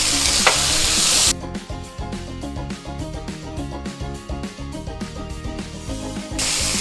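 Tomatoes with ginger garlic paste fry in a pan for chicken choila, giving a steady close sizzle broken by rhythmic scraping and stirring strokes, louder hissing at the start and end.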